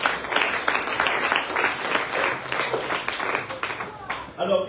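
Church congregation applauding during a sermon, a sustained burst of clapping that swells and fades over several seconds with voices mixed in.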